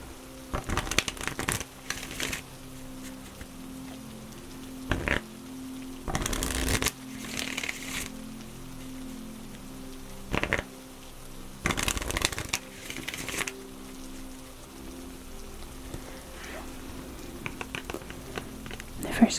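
Moon Oracle cards are shuffled up close in soft, crisp flurries, several bursts of riffling separated by quieter handling, in a hushed setting.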